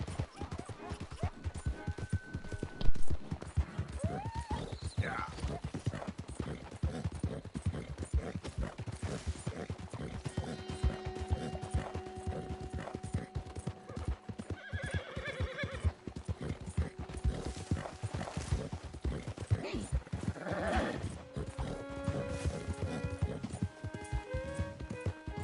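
Hooves clip-clop steadily as a horse trots in the open-world western game Red Dead Redemption 2, with occasional whinnies and someone talking over it.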